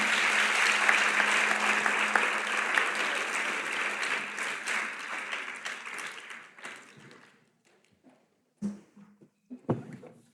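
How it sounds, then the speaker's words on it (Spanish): Applause for congress members closing a labor-reform panel event, a dense burst of clapping that gradually thins and fades out, leaving a few scattered claps and thuds at the end. "Yo quiero pedirles un aplauso"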